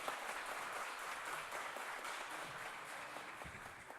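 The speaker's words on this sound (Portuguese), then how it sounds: "a quem eu peço a salva de palmas" A crowd at a public hearing claps, a steady, dense wash of applause from many hands that holds evenly throughout without voices.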